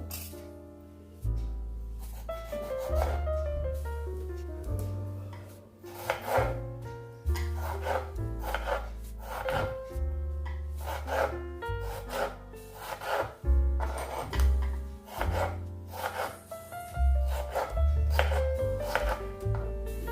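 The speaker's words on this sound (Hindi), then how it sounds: "अभी हम टमाटर को काटेंगे" A knife chops fresh tomatoes on a board for a dhaba-style gobi aloo fry, giving a steady run of close, crisp cuts over a low, droning tonal background, with no talking.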